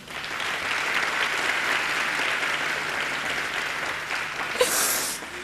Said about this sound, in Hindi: सब ए प्लस की टीम के लिए ताली बजा दीजिए